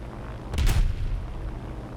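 A tank's 75mm cannon fires once in the War Thunder video game, a single deep, booming blast mid-clip that rolls off over a steady low rumble of engine and ambience.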